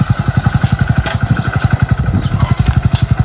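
A motorcycle engine running at idle, a loud, close, steady rapid thumping pulse with a faint mechanical clatter, alone without talk.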